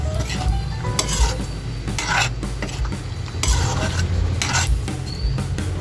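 Chicken liver menudo is stirred in a sizzling pan, a spoon scraping and clinking against the metal in repeated strokes over a continuous frying hiss, close and loud with no talk.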